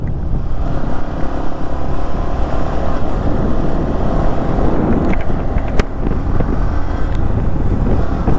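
A vehicle driven along a road toward Malali waterfall, with a steady, loud engine rumble and wind buffeting close to the microphone throughout.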